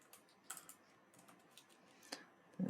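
Quiet, close keystrokes on a computer keyboard while writing code, in short irregular bursts of light taps with pauses between them and a louder clack at the end.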